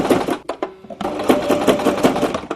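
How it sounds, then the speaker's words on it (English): A sewing machine zigzag stitching bias binding, running in short bursts with a brief pause before a longer steady rattling run, close and fairly loud. "I'm now just going to stitch forwards and backwards a couple of times just to make the hook."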